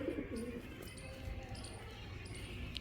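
Pigeons coo softly in a loft, low murmuring calls over a steady hum, with faint high chirps and small knocks nearby.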